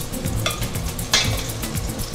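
Tomatoes, onion and serrano chile tipped into a hot pan for a green sauce, giving a steady sizzle with a brief scraping clatter of the pour midway, close and fairly loud, no talking.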